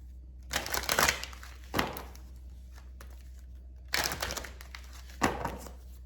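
Two bursts of crisp papery shuffling, each a quick flurry of riffling card sounds, close up with quiet pauses between them.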